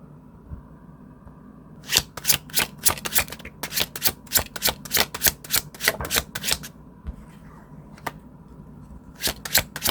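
Tarot cards shuffled in quick bursts of crisp riffling clicks, starting after two seconds of quiet, pausing briefly near seven seconds, then resuming at the end; close and fairly loud, with no voices.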